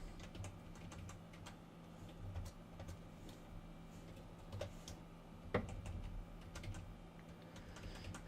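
Steady clicking of keys on a computer keyboard while code for Java shape classes is typed, a fast irregular patter of light taps at close range over a low background hum, with no voices.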